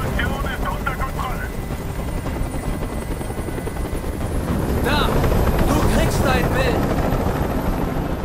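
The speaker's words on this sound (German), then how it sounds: "Dieser Helikopter soll verschwinden!" A helicopter drones overhead in the video game Detroit: Become Human, a loud steady rotor thrum running throughout, under tense spoken dialogue.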